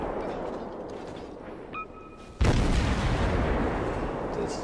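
A single heavy shell blast hits close by in World of Warships as a Tirpitz battleship fires on a tier 7 American Mahan destroyer, a sharp loud boom at mid-clip followed by a rumbling, roaring tail over steady background noise.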